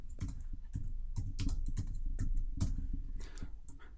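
Keys on a computer keyboard are tapped in quick irregular bursts, close and clear, with no talking over the clicks.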